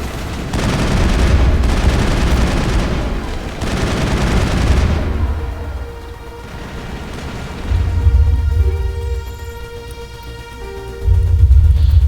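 Heavy gunfire and grenade blasts in the video game Mass Effect, long dense bursts of automatic shooting with deep booming explosions, loud and close, alternating with quieter lulls.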